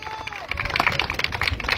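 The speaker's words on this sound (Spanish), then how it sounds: "Que se escuche también fuerte el aplauso" An audience at a municipal inauguration in Pánuco gives dense, steady applause while a voice keeps talking over it.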